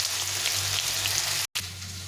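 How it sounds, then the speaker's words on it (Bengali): Poppy seeds fry in a pan with a steady, close hiss and crackle, loud and unbroken apart from one brief gap. "তখন আমি পোস্তটা ভেজে নিই।"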